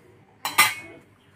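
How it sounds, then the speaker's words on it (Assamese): A wok (kadai) is set down on a stove while a fish-head and pumpkin khar is being cooked, giving two quick, close metallic clanks in a row over a quiet kitchen. "কেৰাহীটো বহাই দি দিছোঁ।"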